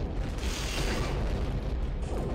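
Missile explosions in the space strategy game Pixel Starships, a dense, continuous rumble of booms and bursts holding steady at full level for the whole stretch, with no clear gaps between impacts.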